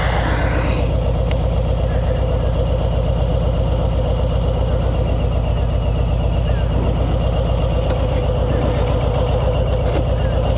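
A motorcycle engine runs steadily, a loud, continuous low rumble with a fast rhythmic pulse filling the whole stretch, with no clear talk over it.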